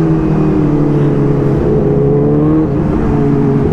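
A motorbike engine revs hard and close, its steady droning whine holding a sustained pitch with slight rises, loud and continuous and without talk.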